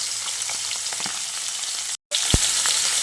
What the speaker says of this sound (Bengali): তাই মাছগুলোকে হালকা করে ভেজে নিতে হবে।